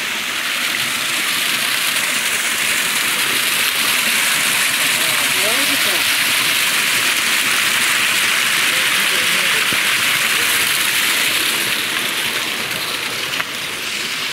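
Water pours steadily over rocks at a small village waterfall, running low, making a broad continuous rushing hiss close by for the whole stretch, with faint voices underneath.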